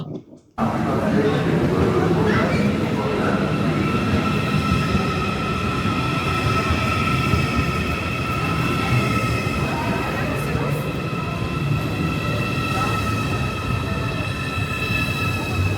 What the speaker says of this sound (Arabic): وهاي اجى القطار